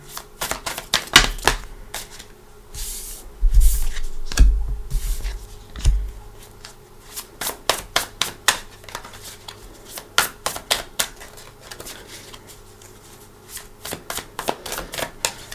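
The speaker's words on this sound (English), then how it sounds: "Okay, I didn't feel any of them yet, so let's shuffle." Tarot cards shuffled repeatedly up close, crisp riffling bursts and sharp snaps in irregular clusters, with soft handling noises between them.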